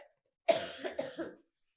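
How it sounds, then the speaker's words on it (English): A single person coughs close to a microphone, one sharp burst followed by a couple of rougher hacking pulses, loud and alone against silence. "I keep forgetting to cough away from the microphone"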